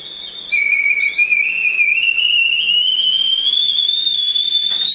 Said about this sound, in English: Just waiting for the kettle to boil now